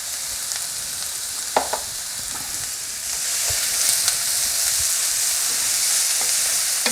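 Two coarsely chopped onions frying in hot ghee give a steady, dense sizzle that swells louder about halfway through, with a few sharp pops and crackles and no talking.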